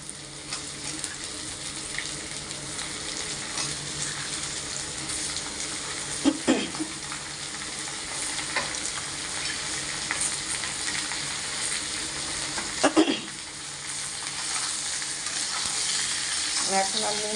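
Ridge gourd frying with onions in a pan sizzles in a steady, close hiss. A couple of louder scraping stirs break through, and soft clinks sound near the end.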